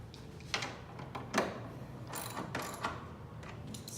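A hand ratchet snugs the leg bolts on a Yamaha grand piano during uncrating, clicking in a few separate short bursts of pawl ratcheting, close and moderately loud with no talk.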